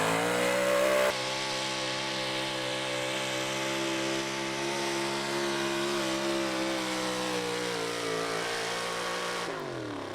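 A big block 4x4 pulling truck roars at sustained high revs through a pull at a Fishersville, Virginia truck pull, loud and steady for about eight seconds before its engine note drops away at the end.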